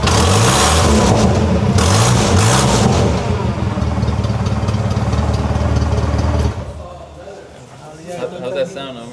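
A 4-cylinder twin-turbo car engine revs loudly and close in a repair shop, holding a sustained roar with rising and falling pitch before dropping away to a quieter idle, with voices talking over it.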